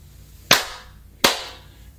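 Two sharp, close hand claps ring out alone, spaced roughly three-quarters of a second apart, each with a short bright decay.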